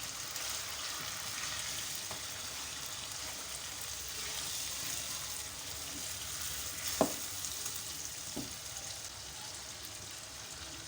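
Chicken frying in a pan with chopped garlic, ginger, salt and thick green chillies, a steady soft sizzle throughout with a couple of quick stirring clatters toward the end.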